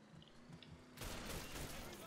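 Gunfire in the video game Mafia 3, a sudden dense burst of shots cutting in halfway through and continuing loud and close after a muffled rumbling stretch.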